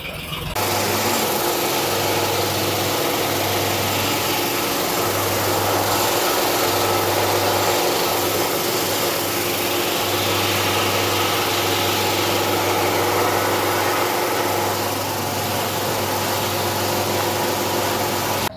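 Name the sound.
tractor engine idling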